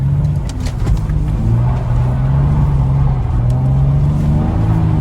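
A heavy Toyota 4Runner engine revs hard while driving in snow, a loud, close, sustained drone with rising and falling pitch as the throttle is held open.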